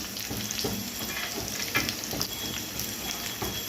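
Sliced onion dropped into hot oil with fried green chillies, sautéing for a potato masala dosa filling: a continuous loud sizzle with intermittent scraping stirs of a spoon close by.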